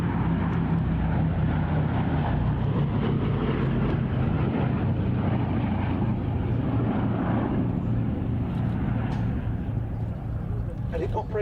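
A vintage aircraft engine drones steadily overhead at the Duxford airshow, a loud, dense, unbroken roar that holds for the whole stretch and thins slightly near the end.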